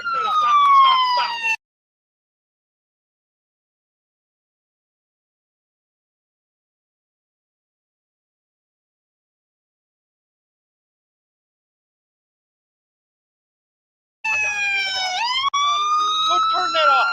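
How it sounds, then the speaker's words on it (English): Police car siren wailing loudly in short bursts, with rising and falling harmonic sweeps at the start and again near the end, separated by a long stretch of silence. "Turn that siren off."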